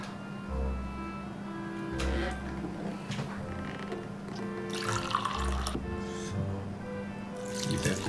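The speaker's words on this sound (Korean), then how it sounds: "물을 250 더 넣었어요." Water poured into a blender jar of chestnuts for making chestnut makgeolli, a steady splashing pour with brief louder gushes over a low machine hum.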